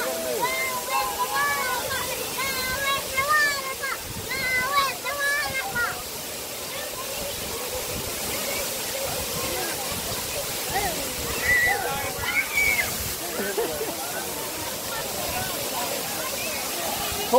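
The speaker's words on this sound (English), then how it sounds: "do you want to go in the waterfall?" A waterfall in North Georgia pours in a steady, rushing roar close by, with splashing and sloshing water, while children and adults talk and call out over it.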